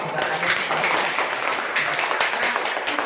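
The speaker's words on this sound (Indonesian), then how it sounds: "Tepuk tangan untuk itu" An audience breaks into brisk, even clapping after an Islamic prayer recitation at a teaching session, the applause filling the moment at close range with a voice faintly underneath.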